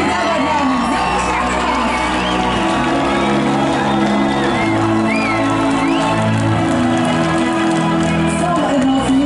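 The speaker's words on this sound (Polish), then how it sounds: "Wielkie brawa dla nich!" Large crowd at a village harvest festival (dożynki) in Poland cheering, whooping and applauding after a prize announcement, a dense continuous roar with shouts and children's voices throughout.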